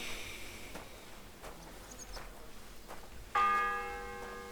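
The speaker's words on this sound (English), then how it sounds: "That's the third bell. Third toll." In Kingdom Come Deliverance II a church bell strikes once, clear and ringing, then hums and fades slowly after quiet ambient background with faint distant clicks.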